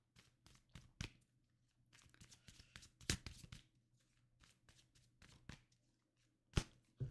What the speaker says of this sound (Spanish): Déjame barajar un ratito.